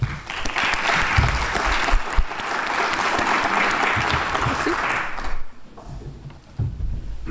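An audience bursts into sustained applause welcoming panelists at a talk on urban migration in Houston, loud and steady clapping for about five seconds before it fades into room sound.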